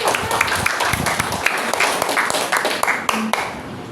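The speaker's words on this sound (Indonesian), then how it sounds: "Tepuk tangannya mana?" A group claps in response to a call for applause during a sales bonus presentation, fairly close and uneven with distinct individual claps and brief background voices mixed in.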